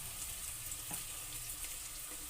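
Potatoes frying in a pan with onions, a steady soft sizzle running throughout at low volume, with a faint utensil tap near the middle and no voices.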